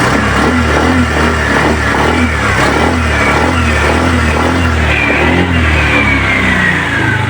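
A Honda Click scooter engine revving hard and loud up close, a dense continuous rasp with rapid rhythmic pulsing and rising pitch near the end, with no talk.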